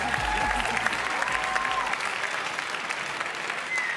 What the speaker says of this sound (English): One more time, big round of applause for all the ladies.